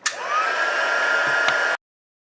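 A heat tool blows hot air over embossing paste on cardstock, a steady whirring blast with a rising tone that runs for under two seconds, then cuts off abruptly.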